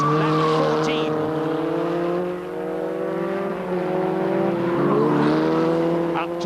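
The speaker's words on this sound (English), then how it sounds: "Julian Bailey goes past Hancock to lap him, coming up to the end of lap 14 in this 20-lap Grandstand Trophy race" Formula Ford 2000 race cars from 1983 racing at Brands Hatch in a 20-lap winter series event, their engines a loud, continuous high whine of several overlapping tones, with pitch dips and rises as cars pass and lap.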